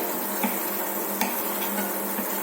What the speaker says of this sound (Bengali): মশলাটা কষায় নিয়ে একটু বেশি করে